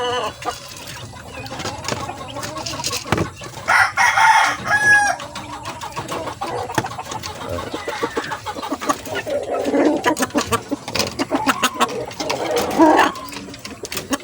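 Backyard chickens cluck and a rooster crows while being fed, with scattered squawks and pecking noises close by, and a person speaks briefly among the birds.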